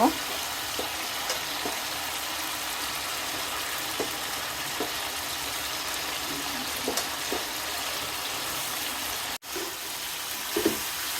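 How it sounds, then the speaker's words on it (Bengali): Okra frying in a pan with spice masala, a constant low sizzle with occasional light clicks and stirring knocks, one brief dropout near the end. "এই তো মশলা কষানো হয়েছে এখন আমি ঢেঁড়সগুলো দিয়ে দিব"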